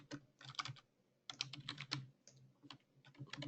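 A file name typed on a computer keyboard during bridge modeling software work, with quick irregular bursts of close key clicks and brief pauses.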